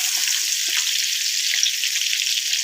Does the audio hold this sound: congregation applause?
no